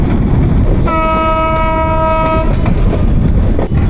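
The Dhumketu Express runs through Bangladesh near the Ishwardi bypass station, heard from on board as a loud, constant rumble of wheels on rails. Partway through, a sustained horn blast sounds for about a second and a half.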